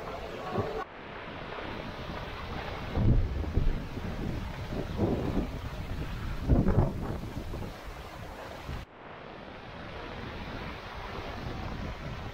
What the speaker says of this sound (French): On a combien de vent là? On a 13 nœuds de vent.